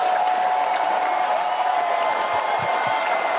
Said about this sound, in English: Your claps are still playing, Queen